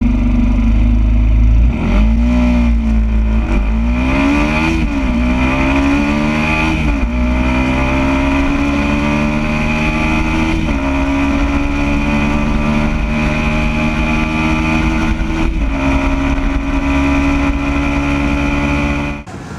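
A Yamaha YZF R125 motorcycle accelerates hard through its gears, the engine note climbing and dropping back at each of several upshifts, loud and steady for nearly twenty seconds with no talk.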